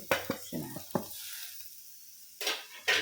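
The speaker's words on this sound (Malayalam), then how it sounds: "നല്ല പോലെ ഒന്ന് ഇളക്കി കൊടുക്കാം നല്ല പോലെ ഇളക്കി യോജിപ്പിക്കാം" Leftover chapati pieces with pepper and coconut are tossed in a pan, giving several sharp scraping strokes with a light sizzle. A short pause falls between them, then two louder scrapes come near the end.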